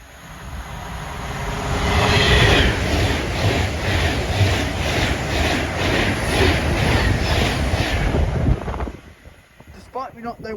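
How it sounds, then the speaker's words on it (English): A Pendolino train passes through a station, a loud sustained rumble with rhythmic clatter of wheels over rail joints for about eight seconds before cutting off sharply, followed by brief quieter sounds. "Despite me not knowing where that Pendolino is going, that's probably the best Pendolino shot I've ever filmed."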